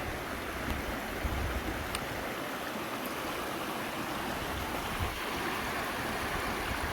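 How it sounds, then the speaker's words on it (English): Water rushes and gurgles steadily nearby, a constant broadband wash of flowing stream sound with no voices. "I can hear water, which is great."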